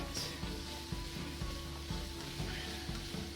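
Green onions sizzling steadily in a hot pan, a continuous close frying hiss with faint periodic stirring taps, no voices.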